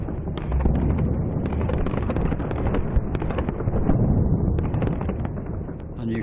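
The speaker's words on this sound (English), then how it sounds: "High explosive bombs fell next, flattening buildings, cratering roads, and severing telephone wires" Bombs and explosions during the 1940 Blitz on Coventry: a dense, continuous rumble of blasts with sharp cracks scattered throughout, loud and sustained with no gaps and no voices.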